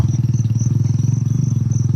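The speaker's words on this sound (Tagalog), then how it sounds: "Motor maingay kasi mga nagtatrabaho ata dito." Motorcycle engine idling close by at a campsite on a misty hillside farm in Magalang, Pampanga, a steady low throbbing drone with fast regular pulses and a faint high whine, holding loud and even throughout with no talk.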